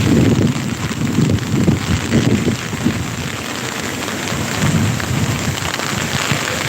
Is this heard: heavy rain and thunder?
yes